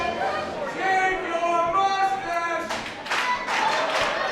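At a pro wrestling event, a wrestler's slow, sarcastic hand claps ring out near the end, a few sharp distinct slaps after a stretch of talk, with crowd noise in the background.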